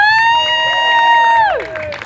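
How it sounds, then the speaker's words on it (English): Crowd at a youth baseball recognition for an 8U team cheering for the players' parents, led by a loud sustained whoop that holds steady and then drops away, with cheering and shouts around it. "can you help me give one more round of applause for the parents of these kids?"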